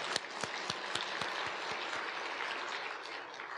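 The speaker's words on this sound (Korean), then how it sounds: "고개 숙여서 박수 치면서 인요한 박사님 고맙습니다." Applause from a church congregation at a Sunday worship service in Korea, steady dense clapping with a few sharp louder claps at the start, filling the space for several seconds before easing slightly.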